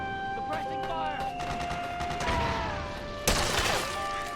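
Suppressing gunfire in Metal Gear Solid 4, rapid automatic shots with a sharp crashing burst near the end, amid tonal game effects and ambience.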